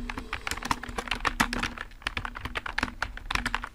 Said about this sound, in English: now I type my email address